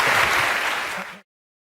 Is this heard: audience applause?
yes